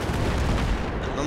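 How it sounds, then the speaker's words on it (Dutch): Dense, rumbling explosions and gunfire in the video game Battlefield 3 fill a short burst, loud and continuous with heavy low-end booms. "Zoveel explosies."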